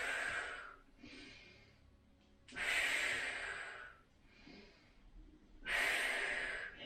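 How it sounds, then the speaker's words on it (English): Deep, audible breaths in and out during a Pilates core exercise, several slow airy inhales and exhales in a steady rhythm, close and fairly loud, with no talking over them. "We're breathing in and out."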